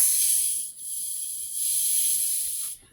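A bottle of fizzy soda releases a sharp, continuous hiss of escaping gas that dips briefly once and then fades out, close and fairly loud.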